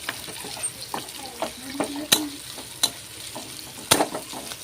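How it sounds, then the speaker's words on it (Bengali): Onions fry in hot oil while a spoon stirs them, giving a steady sizzle broken by sharp scraping clacks against the pan, close and fairly loud. "নেড়ে নেড়ে পেঁয়াজটাকে লাল করে নিতে হবে।"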